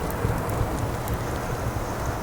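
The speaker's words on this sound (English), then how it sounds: "sorry about the rain outside" Steady rain falling outdoors, a continuous soft hiss with scattered brighter drop ticks, even and unbroken throughout, no voices over it.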